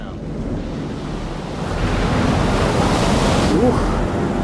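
Ocean waves in the video game Man of Medan roll and surge as a broad, continuous roar with wind noise. The sound swells louder partway through and plays alone, with no talking.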